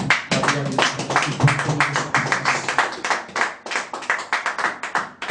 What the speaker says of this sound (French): J'aimerais que nous puissions acclamer pour vous.